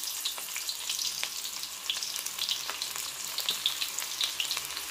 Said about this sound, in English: we fry onion